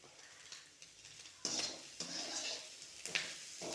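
Prawns are stirred and sautéed in a pan, with a few sharp scrapes and clinks of a spoon against metal over a soft sizzle, the stirring coming in short bursts.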